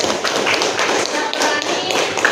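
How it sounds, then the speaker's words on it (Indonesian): Classroom applause: many pairs of hands clap together in a dense, continuous patter of quick claps, close and fairly loud, without a break. "Kita kasih aplaus untuk Sally, tepuk tangan dulu."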